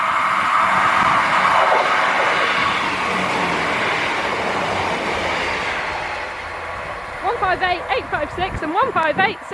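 A four-car Class 158 diesel train rolls through the small rural station at Lakenheath, a loud close rumble and rush of wheels that slowly fades, followed by people talking near the end.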